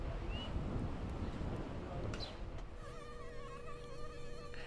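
Mosquitoes whine with a thin, wavering high-pitched buzz that comes close and grows steady and prominent over a rough, windy background hiss.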